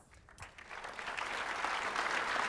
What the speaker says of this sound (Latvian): Tik tiešām aplausi šiem Latvijas sporta izcilniekiem